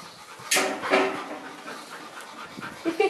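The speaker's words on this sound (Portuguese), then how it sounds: "Olha o latido dele, que lindo." A dog pants heavily and close, with a couple of short breathy yelps or muffled barks breaking through. The rapid, airy breathing continues throughout with no human speech.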